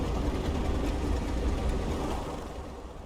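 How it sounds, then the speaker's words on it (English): The engines of a Junkers Ju 52 in Microsoft Flight Simulator drone loudly as they are shut down, a dense, steady roar that eases slightly toward the end. "kill the engines"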